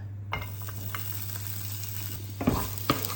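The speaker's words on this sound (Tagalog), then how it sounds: "magisa muna tayo ng luya guys" Ginger sautéing in a pan for chicken liver igado, a low steady sizzle with a constant hum underneath and a few brief scrapes and clinks of a utensil, fairly quiet and without talking.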